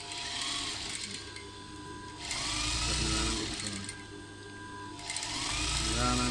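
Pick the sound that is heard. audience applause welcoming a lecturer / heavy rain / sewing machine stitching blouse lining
sewing machine stitching blouse lining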